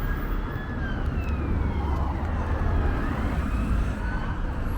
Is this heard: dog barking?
no